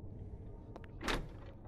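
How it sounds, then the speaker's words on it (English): A door opens in the horror game Jollibae, quiet and brief: two small clicks, then a short soft sliding whoosh against a low hum. "Okay, is this door open?"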